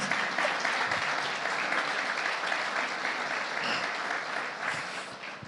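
An audience claps warmly for a shy young woman standing up during a Spanish-language talk, a steady wash of applause that stays fairly even and slightly distant throughout.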